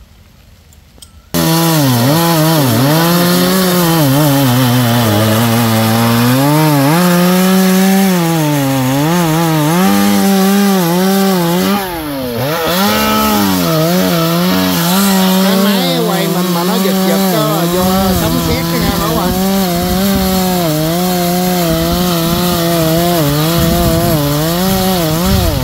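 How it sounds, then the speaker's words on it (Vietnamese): A chainsaw cutting down a large mango tree runs loud and close, starting abruptly and revving continuously with wavering pitch as it bites through the wood, with a brief dip midway. "Chú mình tranh thủ cưa cái cây này cho nhanh lẹ"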